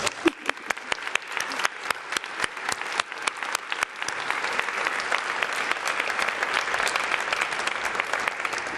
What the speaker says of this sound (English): I think another round of applause